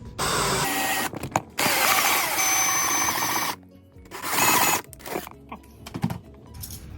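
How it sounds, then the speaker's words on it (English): Power drill boring a hole at the top of an electrical gang box, whirring in several loud bursts broken by short pauses, with faint handling noise in between. "I'm gonna drill a hole right at the top."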